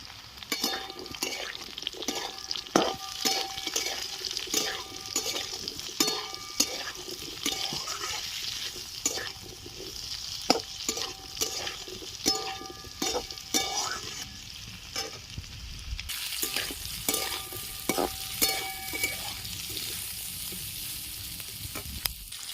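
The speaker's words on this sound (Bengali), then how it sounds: "এবার আমি পেঁয়াজ কুচিগুলো এর মধ্যে দিয়ে দিচ্ছি একসাথে সব ভেজে নেবো" Chopped onions sizzle in oil for a poppy seed and potato dish, a soft continuous crackle with frequent spatula scrapes and taps against the pan, heard close and without voices.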